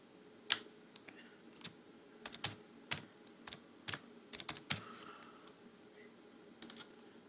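Keyboard keys tapped out in short irregular bursts while entering a username and password to log in to a Hikvision security camera interface, clicks close and crisp over a quiet background.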